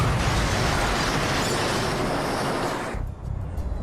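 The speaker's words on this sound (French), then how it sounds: "J'en conclus que l'explosion venait du côté gauche de l'avion." A reconstructed explosion aboard an airliner roars as a sustained, loud broadband blast for about three seconds, then cuts off abruptly into a quieter low rumble.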